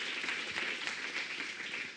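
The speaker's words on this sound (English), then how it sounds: "Give him please an applause." Attendees at a climate-services general assembly conference applaud a presenter after a question session, a soft, distant wash of many hands clapping steadily with no speech.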